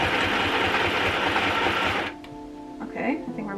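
A sewing machine stitches fabric with a rapid, buzzing mechanical chatter for about two seconds, then stops, leaving quiet room sound and a faint voice.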